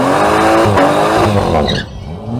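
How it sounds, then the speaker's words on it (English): A BMW X4 M40i and a BMW M240i launch off the line at a drag strip: loud, close engine roar with revving and tire squeal, fading sharply near the end. "Now facing off are John Loaiza in his BMW X4 M40i versus Luis Majana in his BMW"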